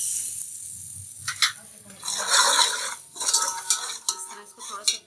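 Spoon stirring chaat masala and spices in a pan for fried chana chaat, giving light repeated metallic scrapes and clinks against the pan with a soft sizzle underneath, close and fairly quiet.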